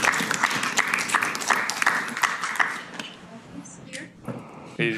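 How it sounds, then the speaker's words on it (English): Applause for a best poster award at an AI symposium, an audience clapping loudly and steadily before it thins out, followed by a few scattered handling sounds and brief voices. "let's give applause to the"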